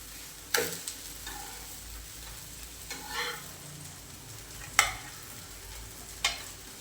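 A wheat flour dhirde cooks on a pan over low gas, a faint, soft sizzle broken by a few sharp clicks and scraping taps of a spatula at irregular intervals.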